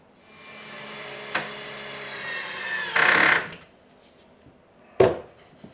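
Power drill driving screws into a cedar garden potting bench, a steady whirring run followed by a louder burst and a sharp final bite, close and alone without talk.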